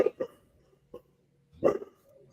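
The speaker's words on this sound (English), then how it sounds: "there's that dog again." A dog barks outdoors in a handful of short barks at moderate distance, with a longer gap before a final burst.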